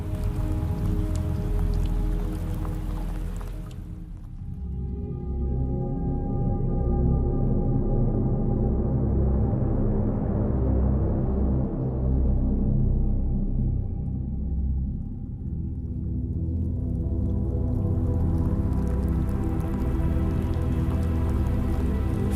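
Steady rain falls at night, a dense, even patter of drops on surfaces with a soft low rumble underneath, continuous throughout and with no voices.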